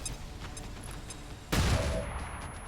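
A flashbang grenade detonates in XCOM 2 (Long War 2). The blast comes as a single sudden, loud broadband burst that then trails off into a ringing wash, following a stretch of quieter game ambience.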